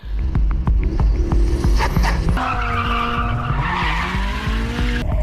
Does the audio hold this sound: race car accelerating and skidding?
yes